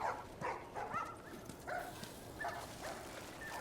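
Dogs barking in the video game The Last of Us Remastered, a run of short, quiet barks repeating every half second or so at a distance, with soft ambient noise underneath.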